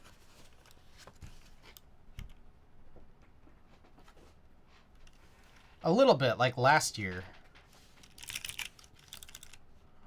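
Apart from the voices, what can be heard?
typing on a computer keyboard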